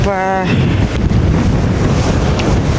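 Strong force 5 wind roars over the microphone on a boat near Volendam in a steady, loud rush, with water noise beneath and a brief voice at the very start.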